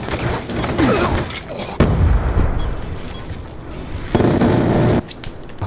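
Death machine gunfire and frag grenade explosions in Black Ops 2 Zombies, a loud continuous barrage of rapid shots with heavy booming blasts layered on top, dense and unbroken for several seconds.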